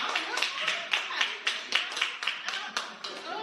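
Audience clapping along at a stand-up comedy show, a quick run of evenly spaced claps filling the room for a few seconds with no talk over it.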